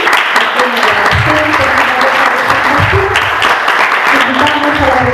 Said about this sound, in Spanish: entonces un fuerte aplauso a Paulina